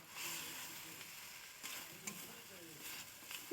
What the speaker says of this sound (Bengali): ডিমটা মশলাটা একসঙ্গে কষানো হয়ে গেছে।